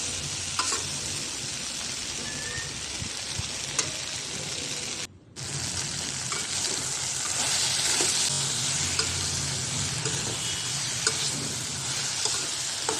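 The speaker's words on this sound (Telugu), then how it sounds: "అంతా బాగా కలుపుకున్నాక ఒక 2 minutes వేగించాక కలుపుకోవాలి." Okra (ladies finger) curry frying in a pan with salt added, stirred now and then over a continuous close sizzle, with scattered clicks of the utensil and a brief drop in sound midway.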